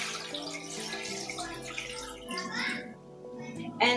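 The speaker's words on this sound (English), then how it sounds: "And only after that we fill pine cones with water." Water pours into a saucepan of pine cones, a continuous splashing rush under a speaking voice that briefly drops away near the end.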